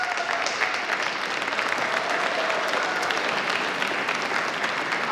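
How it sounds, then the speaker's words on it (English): An audience at a doctoral commencement ceremony claps steadily, a dense, even wash of applause from many hands filling the hall, with no single voice standing out. "let's give them a big, huge round of applause as well"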